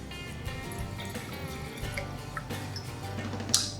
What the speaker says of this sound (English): Well, that's a beautiful pour.